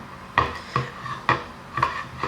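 Spoon scraping and knocking around a bowl of melted chocolate after microwave heating, four distinct close strokes at a steady, unhurried rhythm with no talk.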